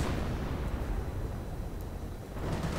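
Artillery fire in a World War II strategy game sounds as a dense, continuous low rumble of distant barrage, like rolling thunder, and stays moderately loud with no clear single blasts or voices.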